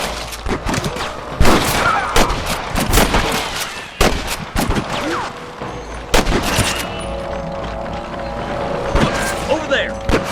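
Repeated sharp gunshots ring out in a Red Dead Redemption shootout, with bursts and scattered single cracks over about ten seconds, loud and close, mixed with shouting voices and game background sound.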